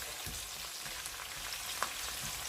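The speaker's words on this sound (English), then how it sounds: "So I'm gonna fry it lightly." Food frying lightly in a pan for a plantain burger meal, a soft steady sizzle with a few faint ticks and pops, close but quiet, no talking.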